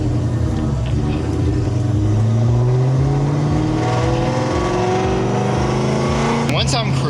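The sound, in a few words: cammed supercharged Terminator Cobra engine revving to let clutch out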